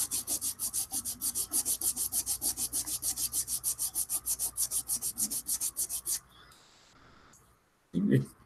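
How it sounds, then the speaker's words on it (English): A sanding stick rubs back and forth across a model kit deck in about thirty quick, even rasping strokes, loud and close. The strokes stop suddenly, leaving a quieter stretch and a short burst of handling noise at the end. "The deck sanding the sanding stick rather than the sanding stick sanding the deck"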